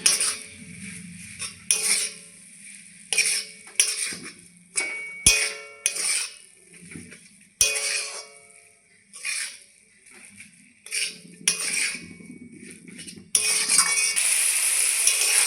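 Banana flower for a vegetarian coconut ghonto stirred with salt and spices in a pot, a metal spoon clinking and scraping in uneven bursts with short pauses, close by, no voices.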